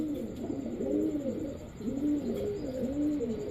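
A pair of Kashmiri checker racer pigeons coo softly nearby in repeated rising-and-falling rolling calls, two clear coo phrases with a short gap between them, steady and moderately quiet.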